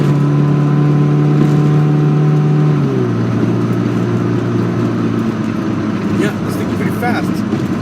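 An ECU-tuned car with upgraded intake and exhaust pulls hard through third gear, engine drone steady then dropping in pitch at the shift before climbing again, loud and close with the engine dominating throughout.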